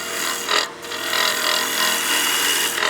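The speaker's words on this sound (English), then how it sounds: "Right now I'm cutting with the short point of the tool." The short point of a woodturning tool cuts wood on a lathe while turning a snowman oil candle, producing a steady close hiss and scrape that dips briefly and then continues, with no talking.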